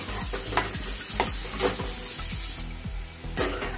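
Radish pieces fry in a pan with a continuous loud sizzle while a utensil stirs and scrapes in a quick repeating rhythm, heard up close with no talk.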